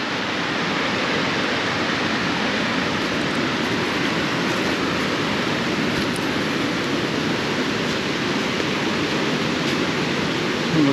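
A mountain river in the Swiss Alps rushes steadily nearby, a dense unbroken roar of water that holds constant without pause and with no voices.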